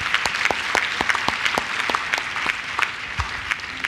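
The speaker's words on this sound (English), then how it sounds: "a big round of applause for Joe Patchara" Audience at a conference day applauding a speaker, a broad steady crowd clap with a few louder, closer hand claps standing out in the foreground.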